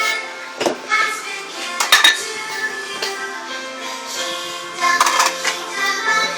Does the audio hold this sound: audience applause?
no